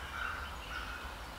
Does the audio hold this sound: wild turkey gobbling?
yes